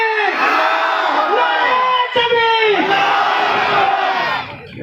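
A large crowd at an AIMIM political gathering roars back in answer to a Takbir slogan call, a loud, sustained massed shout with rising and falling voices that thins out at the very end.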